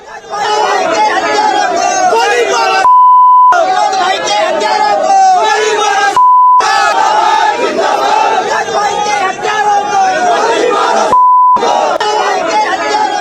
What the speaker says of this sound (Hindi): प्रदर्शनकारियों की भारी भीड़, जय श्री राम के नारे लगने शुरू हो गए।